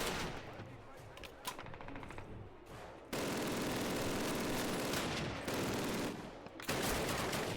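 Sustained gunfire from the 2003 Call of Duty game crackles in dense, loud volleys, with a quieter stretch of scattered shots before the firing intensifies.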